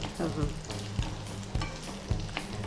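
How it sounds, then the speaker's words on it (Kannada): Half-boiled spicy potatoes frying until crisp, a steady close sizzle broken by periodic scraping thuds of a spatula stirring the pan about every half second to second, with no talking. "ತುಂಬ ಹೊತ್ತೇನು ಫ್ರೈ ಮಾಡ್ಕೊಳ್ಬೇಕು ಅಂತ ಇಲ್ಲ, ಜಸ್ಟ್ ಆ ಒಂದು ಔಟರ್ ಲೇಯರ್ ಕ್ರಿಸ್ಪಿಯರ್ ಬರೋದಕ್ಕೆ"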